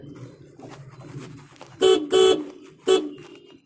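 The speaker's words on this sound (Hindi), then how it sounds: "हॉर्न थोड़ा अच्छा हो सकता था" A 2019 Honda Amaze petrol car horn honks three times, two quick blasts close together and then a third after a short pause, loud and slightly raspy against a quiet background.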